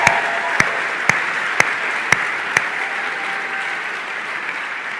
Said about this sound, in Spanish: vamos a darles un aplauso grande a ellos también